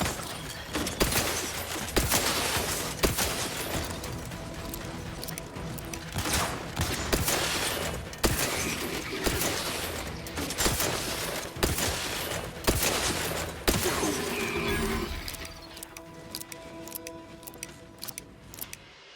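Rapid repeated gunshots in The Outer Worlds 2 combat, loud sharp bursts in quick succession, thinning toward the end beneath a steady game soundtrack.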